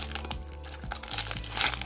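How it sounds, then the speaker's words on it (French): Crinkling plastic of a Magic: The Gathering Dungeons & Dragons prerelease booster pack wrapper being torn open, steady close rustling and crackling with a few sharper cracks, over a constant background hum. "j'ai trouvé un peu dur à ouvrir ces boosters"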